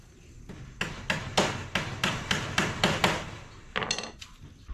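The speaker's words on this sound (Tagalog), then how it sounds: "so ipako na natin dito sa battery cages" Hammer driving nails into the wooden frame of battery cages: about ten loud, sharp, evenly spaced blows close by, a short pause, then a few quicker taps.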